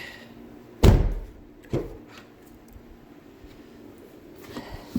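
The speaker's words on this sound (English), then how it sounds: "Got to close the door here so we can get the seat to go back." A car door on a Maserati GranTurismo slams shut with one loud, close thud, followed by a lighter second knock and faint clicks in a quiet interior.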